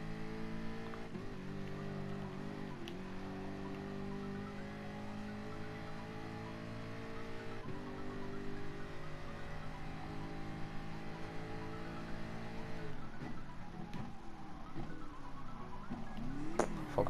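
A race car engine in Gran Turismo Sport drones steadily at high revs, its pitch dipping and climbing through gear changes and corners, with sharper revving bursts and a brief crackle near the end; no voices.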